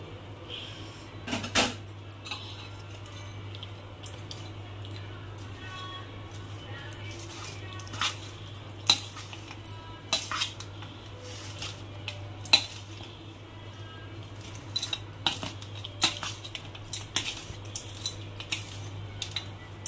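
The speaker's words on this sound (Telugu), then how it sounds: "ఇదిగోండి చింతపండు పులుపు వేసుకుంటున్నాం" Tamarind pulp being stirred into tamarind rice in a pan, sparse spoon clinks and scrapes scattered over a quiet kitchen with a constant low hum, close but soft.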